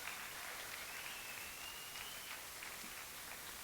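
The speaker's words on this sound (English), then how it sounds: "Give them a big, massive round of applause." An audience at a film festival awards show applauds cabaret performers with a steady, dense wash of clapping heard from a distance, unbroken and without speech.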